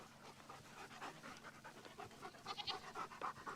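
A dog pants rapidly and steadily at close range, quick rhythmic breaths continuing throughout with no talking.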